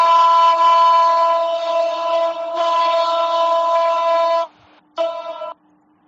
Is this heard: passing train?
yes